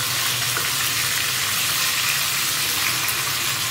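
Katla fish fries in a pan, making a dense, even sizzle that holds steady and loud from start to finish with no voices.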